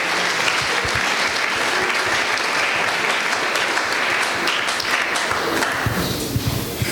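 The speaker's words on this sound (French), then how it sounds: "Acclamez le Seigneur." A church congregation claps and applauds loudly and steadily throughout, a dense crowd of hands with no break.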